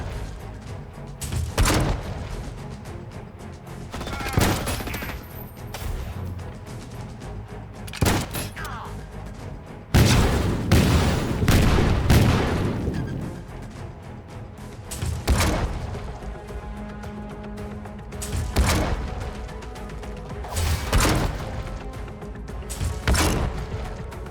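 Artillery fire in a space strategy game, heavy booming impacts landing one after another at irregular intervals, each a loud sharp blast that fades quickly, with a dense cluster of rapid hits midway through.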